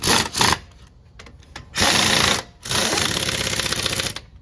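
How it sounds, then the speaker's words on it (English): Power tool whirring in repeated bursts while wheel lug nuts are tightened on a 2017 Chevy Tahoe, close and loud rattling runs of roughly half a second to over a second with short pauses, no talk. "when you're putting them wheels back on, always half tighten one, then go across"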